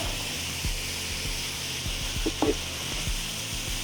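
Corn and tomatoes sizzling in a hot cast iron pan over full high heat, a steady broad hiss with soft rhythmic scrapes of stirring and a brief clatter near the middle.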